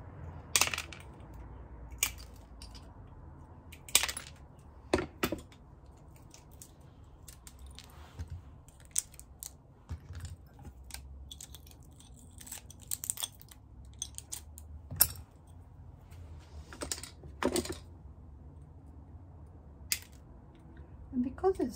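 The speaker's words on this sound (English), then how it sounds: "Because it's textured glass, using wheel nippers, the cut is going to be a little more unpredictable." Wheel nippers snip textured mosaic glass in a series of sharp, isolated clicks and snaps spaced a few seconds apart, with small tinkling pieces falling, close and fairly quiet against a soft room background.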